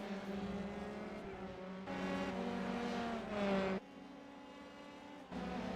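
Racing cars in a B main championship race at WeatherTech Raceway Laguna Seca roar past with rising and falling engine tones, one louder surge passing close before fading back into a steady distant drone.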